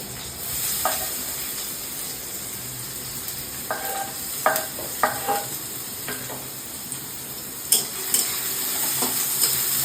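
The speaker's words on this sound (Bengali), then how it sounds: "তো চলো এবার দিয়ে দেবো পেঁয়াজ কুচি।" Chopped onion sizzling in oil in a pan while making pasta, a steady frying hiss with a few sharp clinks and scrapes of a utensil stirring against the pan, close and alone.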